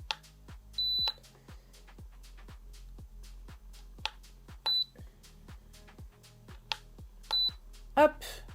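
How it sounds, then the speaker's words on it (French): An Ablemark mini heat press gives short high electronic beeps at irregular intervals as it is switched on, with soft clicks and faint room noise between them. "Donc à chaque fois, vous voyez, vous avez un bip."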